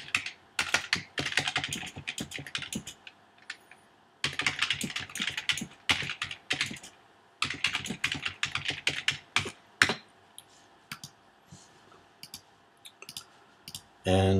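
Typing on a computer keyboard while writing in a wiki installation, with bursts of quick, close key clicks broken by short pauses and a few louder single taps.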